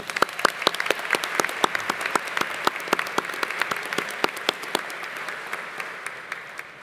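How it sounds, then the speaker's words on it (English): An audience at a university convocation ceremony for incoming students claps in a crowded hall, with distinct sharp claps standing out over a steady bed of applause that slowly thins toward the end. "Let's have another round of applause for Ellie."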